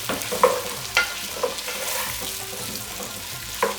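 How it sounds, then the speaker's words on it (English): Three sliced medium onions fry in a pan toward brown for a lamb rogan josh, giving a continuous close sizzle broken by several sharp scraping stir strokes, with no talking. "We need to fry the onion until it is brown."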